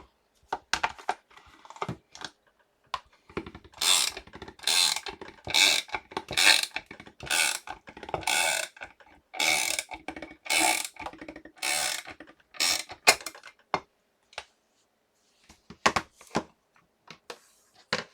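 Metal plates stacked with a rubber mat pass through a hand-cranked pressing machine, giving a series of sharp, evenly spaced ratcheting clunks close by that thin out toward the end.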